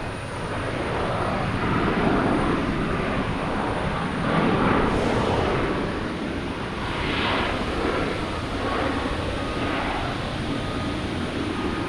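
A United Airlines Boeing 737 MAX 9 on approach into Boston Logan, a broad roaring jet rush that swells and fades gradually overhead, steady and fairly loud with no voices.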